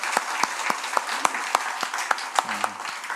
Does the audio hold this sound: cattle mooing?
no